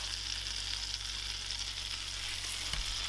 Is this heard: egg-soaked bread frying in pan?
yes